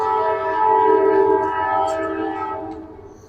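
A loud train horn blows one sustained, steady, harmonic blast up close, then fades out near the end with low rumble beneath.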